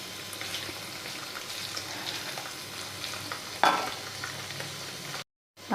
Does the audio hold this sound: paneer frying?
yes